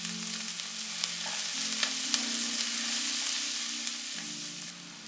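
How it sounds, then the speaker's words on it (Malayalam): Sliced onions with a little salt sizzle and fry steadily in a pan for a curry, a continuous close crackle with faint stirring scrapes and no talk. "അല്പ ഉപ്പ് ചേർത്ത് കൊടുക്കാം സവാള ഒന്ന് പെട്ടെന്ന് വാടാനായിട്ട്"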